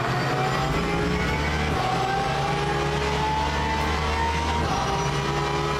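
A Porsche race car in a sim racing game drones steadily at high revs, with a gear change or lift near the two-second mark and another shift toward the end. The engine stays loud and continuous throughout.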